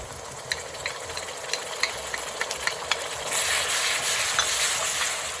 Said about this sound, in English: And I will fry the ginger garlic for a couple of minutes